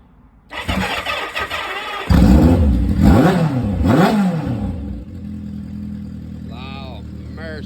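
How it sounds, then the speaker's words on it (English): An old motorbike engine cranks and fires up, roaring into a loud, uneven rev with rising and falling pitch before settling into a steady idle, close by, with a voice briefly speaking near the end. "Let's see how she fires up."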